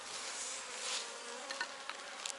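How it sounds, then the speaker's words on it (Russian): Dense, steady buzzing of many honeybees close by in an open hive, a continuous droning hum with no voices. "Ну вот, видите, пчелы есть."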